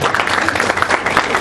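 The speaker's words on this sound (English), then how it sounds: "let's give her a round of applause for her strength for coming today" Audience applause at a caregiver forum, a short, steady burst of many people clapping close by, with some murmured voices mixed in.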